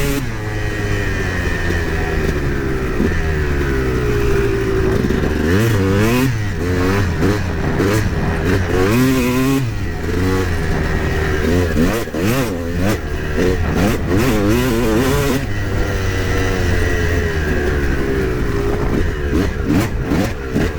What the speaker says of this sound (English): I'm gonna do a full loop all the way around and maybe give it a little more throttle this time